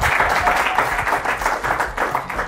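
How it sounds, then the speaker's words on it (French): Audience applause for a young woman introduced as a pageant winner on a televised youth football show, dense steady clapping close and fairly loud, continuing throughout without talk. "Applaudissez très fort pour elle."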